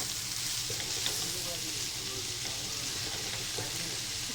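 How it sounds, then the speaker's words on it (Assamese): Black taro (kala kochu) pieces sizzle steadily in a frying pan with chicken and are stirred now and then, a soft, even crackle with little talk. "ভালকৈ ভাজিব লাগিব।"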